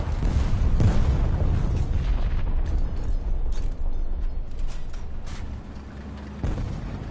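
Bomb exploding in the video game War Thunder: a heavy low rumbling boom with creaking, grinding mechanical noise that stays loud and dense, then fades slightly near the end, where a second thump sounds.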